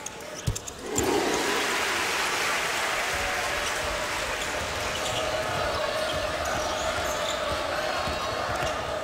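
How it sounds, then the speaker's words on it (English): A basketball crowd at Cameron Indoor Stadium bursts into a loud, sustained ovation after a few sharp court sounds, the cheering and applause swelling quickly and holding steady to the end. "Okafor gets a final ovation from the crowd here at Cameron Indoor Stadium"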